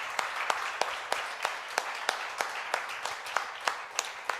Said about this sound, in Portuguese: Você pode dar uma forte salva de palmas ao nosso Senhor?